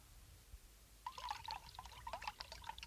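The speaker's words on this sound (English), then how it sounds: "Pour some water right in there." Water poured into a cup, a quiet close trickle that starts after a second of near silence and gurgles on unevenly to the end.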